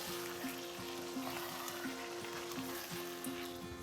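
Kale and mushrooms sauté in a hot pan with a steady close sizzle, broken by faint periodic clicks of stirring, with no voices.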